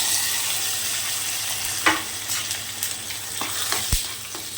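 Curry leaves crackle and sizzle in hot oil over simmering brinjal gravy, a steady frying hiss broken by a few sharp pops and spoon scrapes as the pan is stirred, close and alone.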